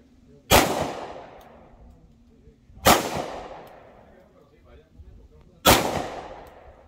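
Three sharp 9mm pistol shots fired at an outdoor shooting range from 10 yards, each a loud, close crack with a short ringing decay, spaced a few seconds apart.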